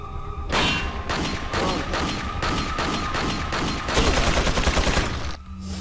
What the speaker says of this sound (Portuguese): eu descarreguei toda a minha munição nele